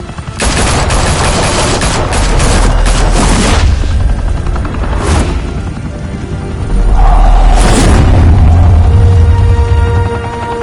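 Heavy gunfire in a Batman video game, loud continuous bursts of automatic weapons and booms under a whirring helicopter-like drone, swelling and easing over about ten seconds.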